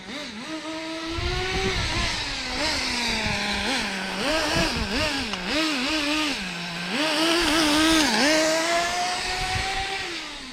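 A small high-revving nitro RC car engine, running rich, buzzes loudly up close, its pitch rising and falling repeatedly as the throttle is blipped, then holding steady.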